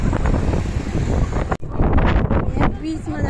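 Strong wind buffets the microphone in a loud, steady roar with gusty swells and a brief dropout partway through, while people talk underneath.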